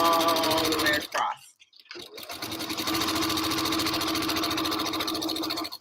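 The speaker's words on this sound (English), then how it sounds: "If you want to know what sewing machine I'm using, I'm actually using the Singer Quantum Stylus 9960." A Singer Quantum Stylus 9960 sewing machine stitches a quilt in a steady, fast mechanical hum, loud and close, stopping for about a second midway before running again at the same even pace.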